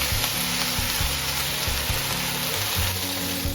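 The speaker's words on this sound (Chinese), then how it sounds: "先丢入猪肉片下去煸香" Pork slices sizzle and crackle in a hot pan while being stir-fried for a homestyle noodle dish, a steady close frying hiss with low stirring thumps and no talk.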